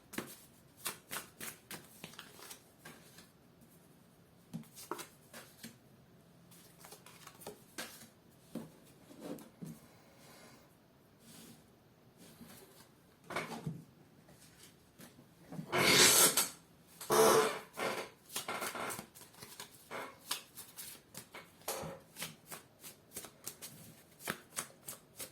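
Tarot cards being shuffled by hand: quick riffling bursts scattered throughout, with a louder, longer shuffle in the middle, close and otherwise quiet.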